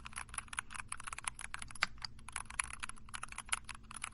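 Rapid, steady typing on a mechanical keyboard, with dense clacky keystrokes and a few louder taps, close up and with no voices.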